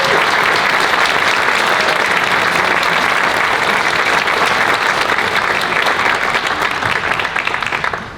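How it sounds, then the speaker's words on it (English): Steady, dense applause from a large audience honoring a past computing pioneer at an awards event, sustained loud clapping throughout that fades slightly at the end. "Maury, would you wave to the crowd so we can applaud you?"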